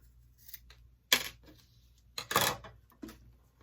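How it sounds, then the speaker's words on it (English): Scissors snipping through fabric while cutting out small connector pieces for a mini backpack, two short crisp cutting bursts with quieter rustling in between, close and alone. "you can just use scissors"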